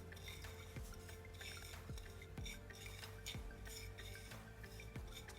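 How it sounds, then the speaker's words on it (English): Seasoning being mixed together in a bowl, a spoon scraping and clinking against the bowl in a regular stirring rhythm, close and fairly quiet, with no talking. "Then I'm gonna blend my seasoning together, make sure it is all combined."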